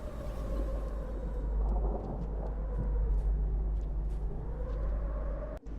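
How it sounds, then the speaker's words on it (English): Steady rain and a low rolling thunder rumble fill the stormy world of the video game Rain World, a dense continuous wash with no speech over it. "I think he's fleeing because of the rain."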